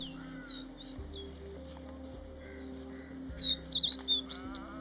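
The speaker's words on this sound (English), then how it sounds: "The male song is a series of rich, melodious whistles delivered from low perches." A male White-bellied Redstart in Pakistan sings rich, melodious whistles from a low perch, several short bright phrases rising over a steady low hum, louder bursts near the end.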